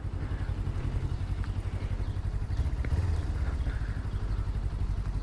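A vehicle engine idles and hums steadily with a low, continuous drone and a slight rise in revs near the middle while shifting from a high gear down to a lower one, close and alone.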